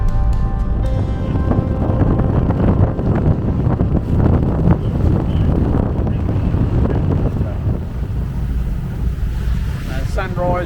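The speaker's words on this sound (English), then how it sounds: "The wind's just got up to about 30 knots, so it's really starting to hook." Strong wind of about 30 knots roars continuously across a sailboat at sea off Wilson's Prom, buffeting the microphone with a loud, steady rumble, and water washes along the hull beneath it.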